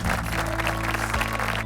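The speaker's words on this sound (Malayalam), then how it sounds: "നല്ലൊരു കൈയടി കൊടുക്കുക" A studio audience breaks into steady applause at a business quiz show after a correct answer, a short dense burst of many hands clapping under a low constant hum.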